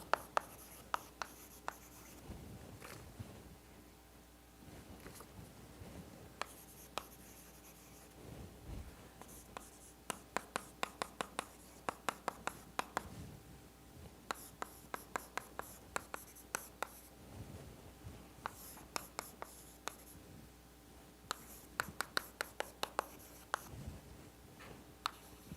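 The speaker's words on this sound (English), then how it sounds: "let me write this like this" Chalk or marker tapping and scratching across a board during a doctoral lecture on partial differential equations, in dense irregular bursts of strokes and taps, close and fairly crisp, with no talk over it.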